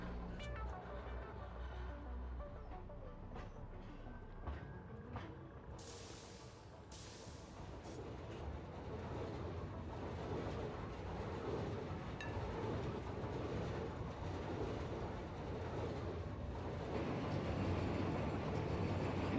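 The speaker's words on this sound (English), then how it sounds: "as soon as the train takes off" A freight train in the factory-building game Satisfactory rumbles steadily, a low continuous drone with rolling, clattering wheel noise that builds slightly louder toward the end, heard without talk.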